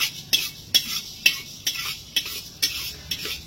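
Small cardamom and cinnamon with whole coriander being dry-fried in a pan, stirred with a utensil that scrapes and taps about eight times in steady rhythm, close and fairly quiet.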